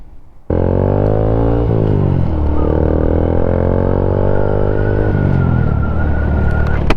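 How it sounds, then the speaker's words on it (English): A Honda Grom motorcycle revs up and rides off close by, its small engine buzzing loudly and steadily with rising and falling pitch through gear changes. "It's a Honda Grom."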